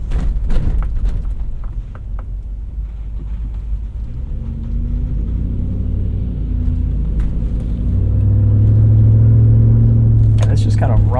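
A 2000 Lexus LX 470 engine with a muffler delete rumbles steadily from start to finish, a deep low drone that swells louder toward the end. Conversation runs over the engine noise in places.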